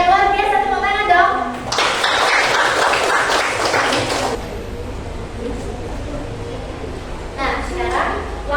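Schoolchildren clap in a classroom, a dense burst of applause lasting a couple of seconds that then fades under ongoing talk and room noise.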